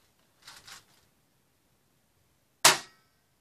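An AK-47 style airsoft gun fires a single pellet in a quiet room, giving one sharp close snap, with a faint mechanical click shortly before it.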